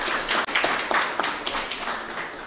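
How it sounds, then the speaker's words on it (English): Audience at a Caribbean American news network live-streamed evening event applauding a panel guest, a short burst of fairly close clapping with a few sharper individual claps standing out. "Let's give him a round of applause for being with us this evening."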